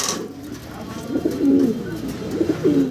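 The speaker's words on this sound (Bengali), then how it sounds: "একদম বিশাল দানব সাইজের একজোড়া শৌখিন কবুতর আমরা দেখতেছি ভাইয়ের কাছে" A pair of large fancy pigeons coo in low, rolling, repeated phrases, close and moderately loud, with the calls swelling and fading over a few seconds amid faint background noise.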